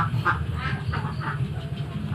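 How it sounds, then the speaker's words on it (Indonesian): Farmed ducks on a duck-rearing farm quack in several short bursts over a steady low rumble of background noise, fairly close and clear, with no one talking. "saya akan membagikan pengalaman saya selama beternak bebek dari awal sampai sekarang"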